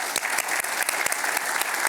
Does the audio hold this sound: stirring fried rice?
no